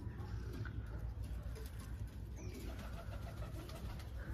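A pigeon coos softly at its nest in a loft, with low murmuring coos under a steady, busy background hum and faint rustling.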